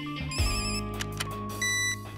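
A telephone rings with repeated electronic tones, moderately close, over a low background hum and music, bringing a call in from police headquarters.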